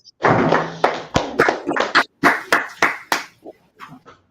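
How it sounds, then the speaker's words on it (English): A small online class claps, with sharp separate handclaps at an uneven rhythm, some in quick bursts, close and fairly loud, with short gaps of silence between them. "Clap it up"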